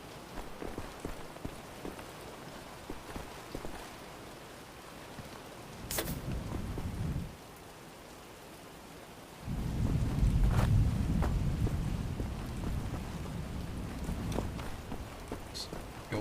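Rain pours inside a toilet room in the Wolfenstein video game, with a short steady hiss of rainfall, a pause, then a louder and longer downpour that continues with a few sharper drips.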